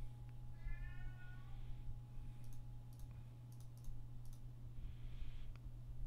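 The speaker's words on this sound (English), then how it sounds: "Wow, that cat's loud." A cat meows loudly in a drawn-out, rising call, then meows again later, over a steady electrical hum and bursts of clicking like keyboard typing.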